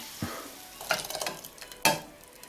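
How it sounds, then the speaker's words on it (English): Onions for minestrone soup tipped into a hot pan, a few close thumps and scrapes followed by a light crackling sizzle, fairly quiet, with no one speaking. "So I'm going to add the onions."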